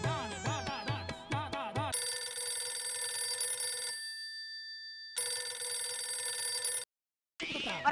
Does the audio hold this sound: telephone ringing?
yes